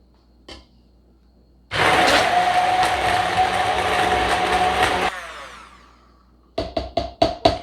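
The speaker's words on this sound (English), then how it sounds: "And then I'm just gonna blend this all with my immersion blender." An immersion blender purees vegan wild rice risotto ingredients in one loud, steady whir of about three seconds that winds down, then a run of quick knocks against the container.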